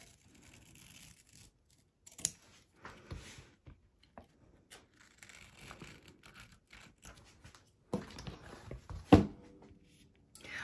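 Scissors snip and trim appliqué fabric close to the stitching on an embroidery hoop, giving scattered soft cuts and rustles at close range with a few sharper snips, no talking.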